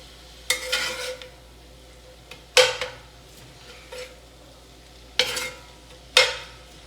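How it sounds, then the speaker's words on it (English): Meat and vegetables for keto jambalaya are stirred in a pan, with several sharp scraping clatters of a utensil spaced a second or two apart over a faint low sizzle. "I'm just kind of mixing up the meat and all the vegetables together and mixing them around until the meat's completely cooked"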